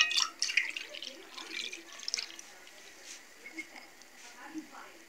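Buttermilk pours into a mixing bowl for a simple chicken recipe, a soft liquid splashing and trickling that is strongest at first and then thins to faint drips.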